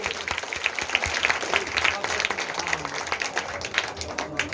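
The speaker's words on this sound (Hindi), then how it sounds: "ताली होना चाहिए।" Applause from a devotional gathering at a Bhagvat Katha in Bhagalpur, a steady wash of many hands clapping at moderate level for the whole stretch, with a faint voice now and then underneath.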